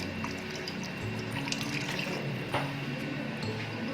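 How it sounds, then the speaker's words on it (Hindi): Water pours steadily into a pot of chicken being cooked for Sindhi biryani, giving a continuous close splashing and gurgling stream for several seconds. "2 कप पानी डालेंगे।"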